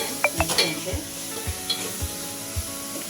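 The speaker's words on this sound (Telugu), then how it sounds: "అవి కూడా బాగా ఫ్రై అయినంత వరకు ఫ్రై చేయాలి" Tomatoes fry in oil in a home kitchen pan for a village-style gongura dry fish curry, with a continuous sizzle broken by regular scraping knocks of a spoon stirring against the pan.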